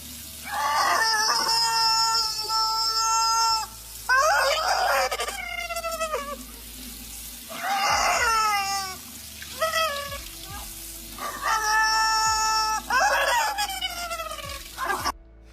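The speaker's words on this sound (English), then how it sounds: "That is the sound of a rubber chicken being drowned." Squeaky rubber chicken being drowned in water, giving several long, loud squealing honks with bubbly, gurgling breaks between them, heard alone and close up.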